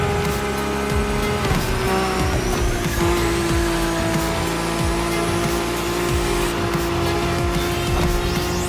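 A Lamborghini race car in The Crew Motorfest screams along at speed, its engine note rising and shifting through gears, with tire squeal and other cars passing during a continuous, loud racing run.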